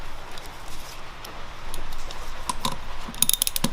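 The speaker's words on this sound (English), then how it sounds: "you put your wrench on the bottom nut, and then you just loosen it like you would any other bolt" Wrench clicking and ratcheting on stacked nuts threaded onto an exhaust manifold stud of an H23 VTEC Civic, a series of light metallic clicks, close and moderately loud, with sharper ticks near the end.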